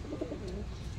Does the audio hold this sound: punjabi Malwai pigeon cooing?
yes